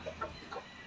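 Hens clucking softly in a backyard flock, with a few short faint clucks spread over under a second against quiet background noise.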